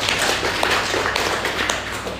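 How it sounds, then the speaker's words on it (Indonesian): A church congregation applauds steadily, a dense, close wash of many hands clapping together without pause. "Tepuk tangan untuk Tuhan Yesus."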